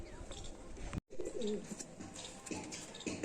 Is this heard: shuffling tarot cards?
no